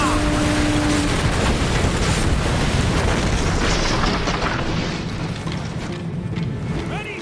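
Ship cannons fire in a naval battle in Assassin's Creed Black Flag, a continuous loud rumbling barrage of booms under shouted voices and battle noise.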